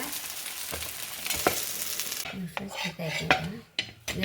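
Brinjal rotti roasting on a pan, with a steady sizzle and a few clinks and scrapes of a utensil against the pan, heard close up with no talking.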